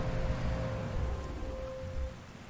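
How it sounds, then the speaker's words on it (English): Rain in the war strategy game Panzer Corps 2, a soft, steady hiss of falling rain with low rumbling underneath, fairly quiet and continuous with no voices. "I suppose it's raining"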